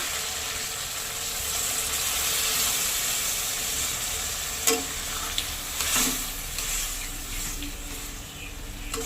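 Watermelon rind cooking in a pot is stirred after water is poured in, a soft continuous sizzle and bubbling hiss with a few light scrapes and clinks of the spoon against the pot.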